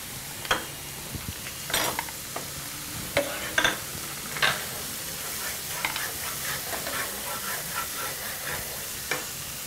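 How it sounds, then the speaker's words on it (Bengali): Onions fry in a pan as ginger paste is stirred in while cooking a prawn malai curry, a continuous sizzle broken by scattered scraping stirs and clinks of the utensil against the pan. "এবার আমি এতে আদা বাটা দিয়ে দেবো একটু"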